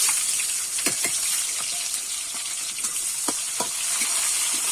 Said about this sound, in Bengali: পেঁয়াজটা একটু আমি ভেজে নেবো